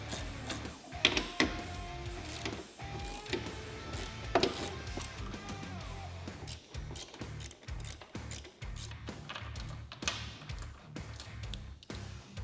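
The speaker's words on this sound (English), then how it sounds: "loosen all the outermost screws in the skid plate" Screws on the skid plate of a Textron Wildcat XX side-by-side being loosened with a tool, producing close mechanical clicking, ratcheting and tapping in irregular bursts, with short metallic rattles.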